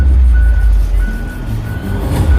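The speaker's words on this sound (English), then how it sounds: "the 60-ton rigid dump truck, the HD605-10" Reversing beeps from a Komatsu HD605-10, a 60-ton rigid dump truck with a 40 cubic meter dump body, shown at a trade fair: a steady series of evenly spaced tones over a loud, continuous diesel engine rumble.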